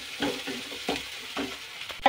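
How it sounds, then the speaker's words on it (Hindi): Onions frying in a pan for aloo methi sabzi, a close sizzle broken by four or five rhythmic spatula stirs and scrapes, ending on a sharper clink, with no talk. "ये हमारे प्याज भुनने लगे हैं"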